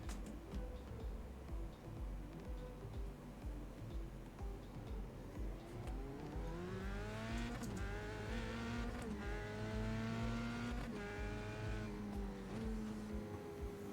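Formula 3 race car lapping Road America, engine heard faintly from onboard with a rising, falling whine as it revs up through gears and brakes, and no voices.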